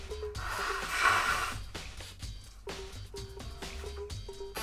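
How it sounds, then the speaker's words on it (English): Someone blows their nose in a quiet room, a single breathy honking burst lasting over a second, close and fairly soft, while faint chiming game music blips continue. "Hold on, blowing my nose."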